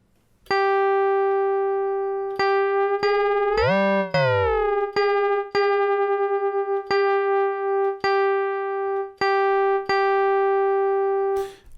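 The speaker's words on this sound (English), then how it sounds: "A nice Digitone feature is detune." An Elektron Digitone synthesizer plays a steady sine-like tone with its detune feature, the pitch sweeping and wobbling briefly in the middle, punctuated by several sharp clicks, with no voice.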